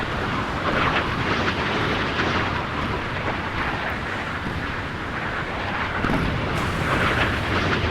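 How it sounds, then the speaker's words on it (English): SM-6 missiles launching from US warships in the Sea Power naval game, a sustained roaring rumble of rocket motors and distant booms filling the whole stretch, loud and continuous with no voices. "Okay, more SM-6s coming out, hitting."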